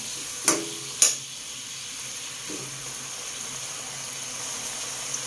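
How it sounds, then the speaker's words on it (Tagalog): Tofu and chicken are stirred with soy sauce in a cooking pan: two sharp utensil scrapes close together near the start, then only a faint, quiet sizzle. "Haluin po ulit natin ng bahagya."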